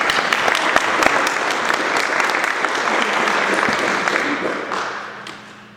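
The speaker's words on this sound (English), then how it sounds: "A round of applause." Audience at a First Friday gathering breaks into loud, dense applause with sharp individual claps, sustained for several seconds before tapering off, with a few voices underneath.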